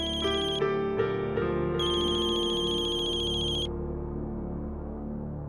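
A telephone ringtone announces an incoming call, a bright electronic melody of sustained tones and a high warbling ring that plays loudly and alone for several seconds before fading to a lower hum.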